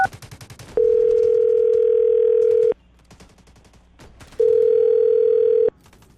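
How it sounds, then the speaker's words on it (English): A steady telephone dial tone sounds loud and close, broken by a pause with faint sounds, then returns for a second long stretch before cutting off. "I'm going to dial the phone number"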